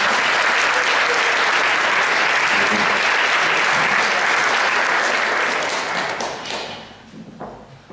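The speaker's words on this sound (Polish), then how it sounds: "Gorące brawa, grupa Solaris." Loud, dense audience applause fills a hall at the closing of a Toastmasters Leadership Institute event in Warsaw, holding steady for several seconds before tapering off into a few scattered last claps.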